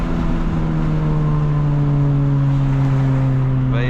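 Steady engine drone of a 2025 Honda Civic Type R FL5 with aftermarket modifications on a night drive, holding a constant low hum with no talk and a brief rising tone near the end.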